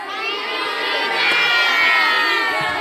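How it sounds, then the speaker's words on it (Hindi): A large crowd cheers and shouts loudly and continuously, a dense wash of excited voices with some clapping mixed in, swelling slightly toward the middle. "एक बार जोरदार तालियां हाथों को हिलाते हुए थैंक यू जीसस बोलते हुए"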